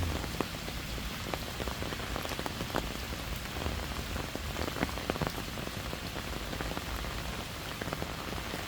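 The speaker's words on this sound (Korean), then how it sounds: "오늘은 뭐 약간 비가 오니까" Light rain falls steadily in a park, a soft continuous patter with scattered individual drops ticking close by, no voices.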